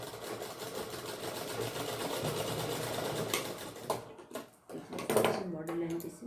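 Sewing machine stitching a lehenga fitting, a continuous close mechanical whir that stops after about four seconds, followed by handling clicks and someone talking.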